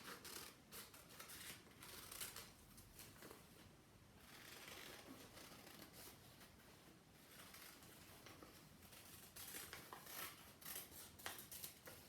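Scissors snip through paper while paper candle shapes are cut out, producing quiet, repeated crisp cuts and rustling that carry on steadily at close range.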